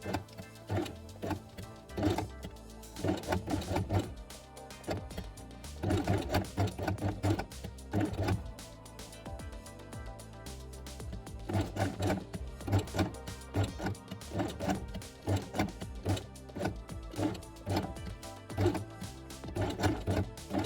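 A sewing machine stitches along a fabric edge for a quiet book, its needle clattering in rapid steady bursts with short pauses between runs, close and continuous.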